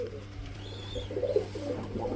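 Pigeons at a pigeon market, including fancy breeds, coo in soft repeated rolling calls over a steady low hum, with no talk.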